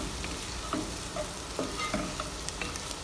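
Chopped onions sizzle and crackle in desi ghee in a pan, with soft scraping and clicking from stirring layered over a steady frying hiss.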